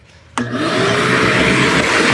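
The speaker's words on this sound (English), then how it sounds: "I'm gonna see if I can vacuum the stuff that's gonna fall on us." A vacuum cleaner starts abruptly and keeps running with a loud, steady whine and roar, close by, as it cleans the dirty cab interior of an old Ford Bumpside pickup truck with a cardboard headliner, left parked for over 15 years.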